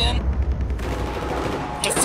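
Bulldog rifle fire in Battlefield 4 during close-quarters Operation Locker play, a burst of loud rapid shots up front that trails off into game ambience, with a faint echo near the end.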